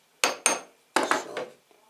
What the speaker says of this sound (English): So a bit more knocking actually on the edge of this hammer.